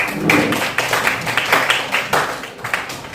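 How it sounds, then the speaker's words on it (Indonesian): A classroom group claps together in a short burst of applause, many hands striking in quick, slightly uneven rhythm for about three seconds, fairly close and with no talking over it. "Kita beri aplaus dulu."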